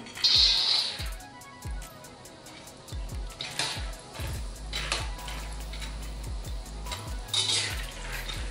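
Peanuts dropped into hot oil in a wok and fried, with repeated clinks and scrapes of a utensil against the pan over a steady low sizzle, close by and fairly loud, with no talking.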